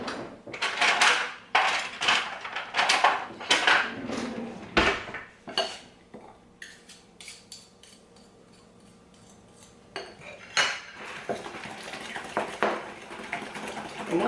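A small whisk beats cheesecake filling for chocolate chip pumpkin cheesecake muffins in a bowl, giving quick clinking scrapes against the sides in irregular bursts with a quieter stretch midway, close up.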